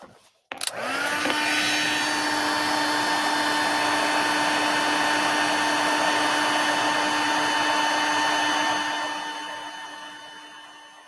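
A heat tool blows steadily, melting gold embossing powder on a thank-you card, a loud continuous whirring hiss with a strong motor whine that starts abruptly and runs alone for about ten seconds before slowly fading.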